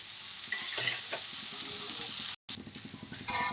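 Cooked, cooled rice being stirred in a hot pan, a steady close sizzle with scraping strokes throughout, briefly cut off near the end, and no voices.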